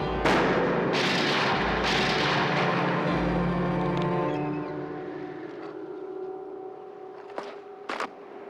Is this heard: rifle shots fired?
yes